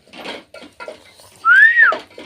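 A person imitates a pressure cooker whistle with a single rising-and-falling whistled tone lasting about half a second, set between short bursts of talk while cooking a Chettinad-style chicken gravy with tomatoes.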